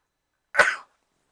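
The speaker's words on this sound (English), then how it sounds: "I'm gonna sneeze." A single sharp sneeze, one short loud burst close to the microphone, surrounded by silence.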